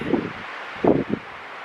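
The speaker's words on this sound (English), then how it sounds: "I'm trying to shelter you from the wind a bit." Gusty winter wind outdoors in a Colorado forest, buffeting the microphone in rough, close bursts of rumbling noise, two strong gusts separated by a calmer stretch.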